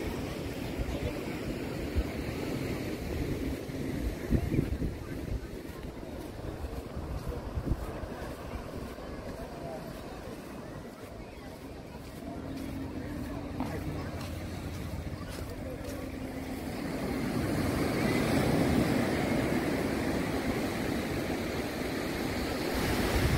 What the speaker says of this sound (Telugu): సో బీచ్ అయితే చాలా రద్దీగా ఉంటుందండి